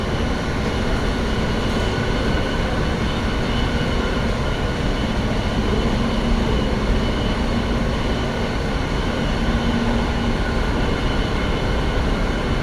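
A metro train rumbles steadily through an underground station in the United States, a loud continuous roar with a droning hum that holds throughout.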